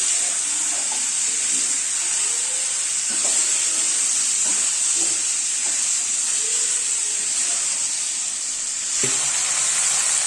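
Chicken pieces coated in ginger garlic paste and onions fry in a kadai, giving a steady bright sizzle with occasional clinks and scrapes as they are stirred, close and without talking.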